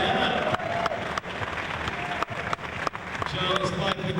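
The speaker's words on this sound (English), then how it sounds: "let's give him a nice round of applause." Steady applause from a crowd, continuous clapping with a few sharper accents, fairly loud and sustained throughout.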